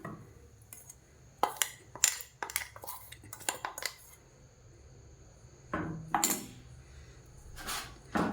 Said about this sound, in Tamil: இப்போ இதை நம்ம ஒரு பவுலில் சேர்த்துடலாம்